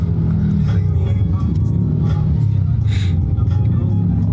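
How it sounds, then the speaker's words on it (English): Rush-hour road traffic as a steady low rumble of car engines, with occasional louder passing vehicles and faint voices in the background. "Grabe yung traffic ngayon."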